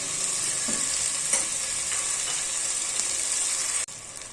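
Chopped tomatoes and green chillies frying in a pan, a loud, even hiss of sizzling with a few light stirring touches, which drops off sharply just before the end.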